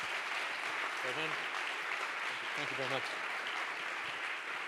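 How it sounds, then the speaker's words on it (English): Audience applause for a speaker at a startup event, steady broadband clapping throughout with a voice speaking briefly over it. "Big applause."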